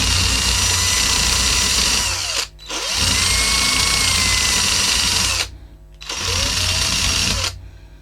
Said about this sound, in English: we'll give that a little clean up with the wire brush in the battery drill